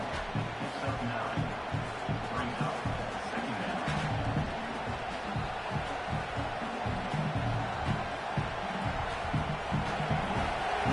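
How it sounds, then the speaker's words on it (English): Stadium crowd in a college football video game, a constant dense roar of many voices throughout, with a commentator speaking over it. "Listen to the crowd energy here in the early going."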